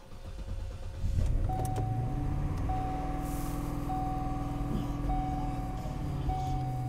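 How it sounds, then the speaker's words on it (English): A car starts and idles steadily while electronic chimes repeat at regular intervals; the engine hum stays constant and moderately near. "let me go ahead and start the car here."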